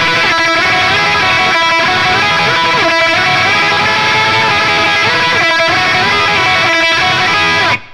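Loud distorted electric guitar, rapid tremolo-picked notes in a chorus section, a dense continuous buzz broken by a few short rhythmic gaps; no voices, cut off abruptly at the end.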